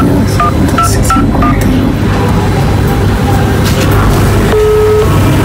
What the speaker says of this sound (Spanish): Vos llamás y te da constantemente ocupado, ¿eh?